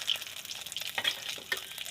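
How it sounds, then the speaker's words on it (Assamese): Steady crackling sizzle of food frying in hot oil, close and continuous with small popping bursts. "মাত্ৰ 2 মিনিট সময় ফ্ৰাই কৰিছোঁ।"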